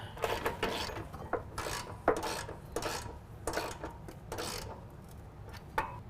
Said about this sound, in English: We're going to tighten down our two bottom bolts with a 13mm